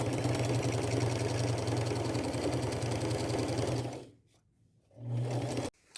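A sewing machine runs a small straight stitch in gold thread, attaching denim patches to jeans with a steady loud whir, pausing briefly before starting again and stopping.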